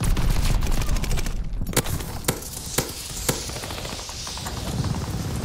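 Light machine gun fire in the World War II shooter Call of Duty: Vanguard during a free-for-all match on the Das Haus map, with dense rapid bursts and several sharp separate shots rising above a steady din of game noise.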